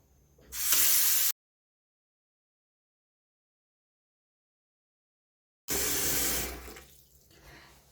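Hot tap water runs into a container in two bursts, a short loud rush near the start, then a long silence before a second steady flow that gradually tapers off.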